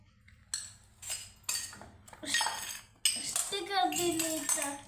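Small plastic and metal toy utensils clatter and clink in quick bursts while someone talks nearby.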